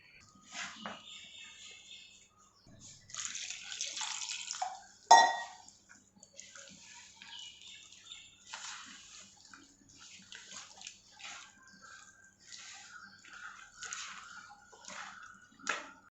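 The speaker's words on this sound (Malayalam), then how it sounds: "ആദ്യം കുറച്ച് വെള്ളം ഒഴിച്ച് നമുക്ക് നല്ലപോലെ ഇത് കലക്കാം." Water poured into rava dosa batter made with semolina and onion, then stirred by hand in a bowl, giving wet sloshing, scraping and clinking bursts with brief pauses, close and moderately loud, with no talking.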